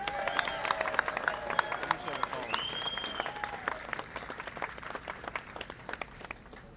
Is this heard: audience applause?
yes